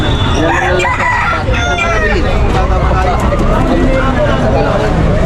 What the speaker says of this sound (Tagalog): nagtitinda ng mga manok dito sa Malabon